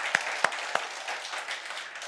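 A church congregation applauds at the start of a Sunday service, a soft, steady patter of clapping from a modest crowd with a few sharper individual claps near the beginning.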